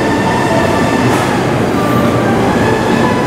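A Japanese commuter train, set 231, arrives at a station platform, rumbling steadily close by with loud rolling noise and faint high wheel squeal, a continuous heavy roar without voices.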